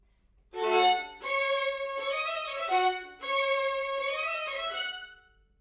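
Violins playing a lyrical melody in octaves, the second violin doubling the line one octave lower, from Coleridge-Taylor's Clarinet Quintet; a smooth bowed phrase of several sustained notes, clear and moderately soft, with no talk.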